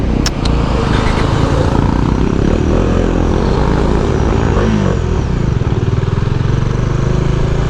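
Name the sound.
airplane flying near new airport in Daraga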